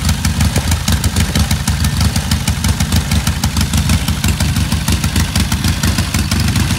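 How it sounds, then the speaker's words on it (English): Air-cooled, rubber-isolated 745cc Norton parallel-twin motorcycle engine running at a steady idle, a loud, close, rhythmic low-pitched throb with mechanical clatter and no voices. "The first models were equipped with Norton's cleverly designed, rubber-isolated, air-cooled 745cc parallel twin."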